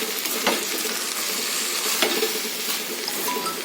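Rice and moong dal being stirred in a hot pot for kichadi, a steady soft sizzle with scraping stir strokes at a moderate, close level and no talking.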